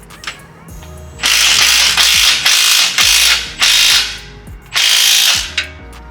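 A ratchet tightens the cat-back exhaust bolts on a 2022 Toyota Tundra, fitting a Carven exhaust, in a run of loud, close clicking bursts separated by short pauses.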